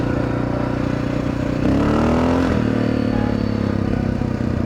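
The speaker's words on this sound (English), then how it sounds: "Okay, well, let's try gassing it." Motorcycle engine with freshly cleaned carburetor jets revving as the throttle is opened, a steady close idle rising into a brief higher-pitched rev around the middle before settling back, loud and without talk.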